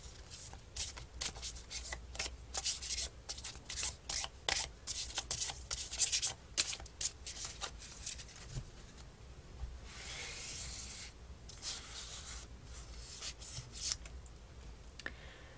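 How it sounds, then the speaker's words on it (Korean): Tarot cards being shuffled by hand, close and quiet, with repeated riffling bursts and rubbing sounds that are irregular but continuous, followed by softer handling as cards are drawn. "그러면 추가 카드 한번 뽑아볼게요."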